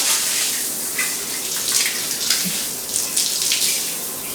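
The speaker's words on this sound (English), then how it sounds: "So I'm just gonna use my shower to wet" Water from a handheld shower sprays onto a toy poodle's coat during at-home grooming, a steady close hiss with uneven splashy surges as the stream shifts.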